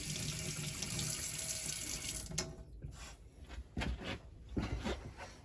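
Warm water runs from a tap in a Swift Edge caravan, a steady rushing stream for the first half that then breaks into uneven splashes and gurgles as the flow changes.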